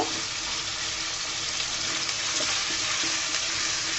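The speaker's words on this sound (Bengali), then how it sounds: "এরপর এগুলাকে আমি সুন্দর করে তেলের মধ্যে পাঁচ মিনিট ভেজে নেব" Chicken pieces fry in oil with a steady, dense, watery sizzle that sounds close and fairly loud, with no voices over it.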